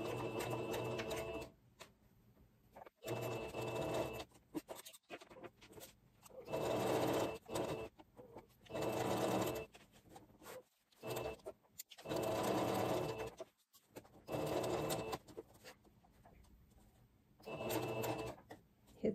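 A sewing machine stitches a seam for an invisible zipper in repeated bursts of fast, even mechanical whirring, separated by short pauses. Each run lasts one to three seconds, heard close and alone.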